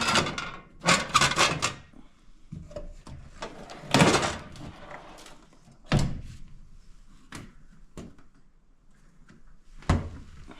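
A small food-compartment door at an abandoned Arizona ranch shuts with several close, sharp wooden thunks and knocks spaced a few seconds apart, with quiet pauses between them.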